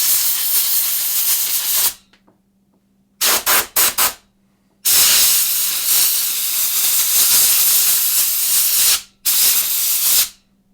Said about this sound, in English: the compressed air was definitely able to get a lot of stuff out of this filter